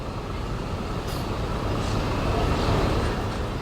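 City bus engine and steady roadway traffic on a Buenos Aires street, a loud continuous rumble with a faint hiss of air brakes partway through, no voices.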